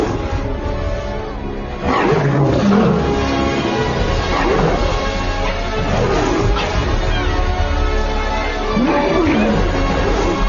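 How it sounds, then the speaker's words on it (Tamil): A lion roars in an animated film scene, several deep, rumbling roars rising and falling over a loud orchestral score throughout. "கேட்டியா அந்த கர்ஜனைய?"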